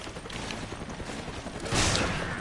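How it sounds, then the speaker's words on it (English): Gunfire in the video game Resident Evil 5, a steady wash of distant shots that swells into a louder burst near the end, with no talk over it. "I can hear gunfire."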